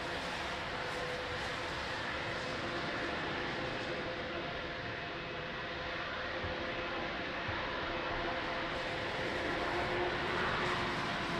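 A Portuguese Air Force KC-390 transport aircraft at Lisbon Airport in the rain, its engines a steady broad roar throughout that swells slightly near the end, mixed with rain and airport background noise.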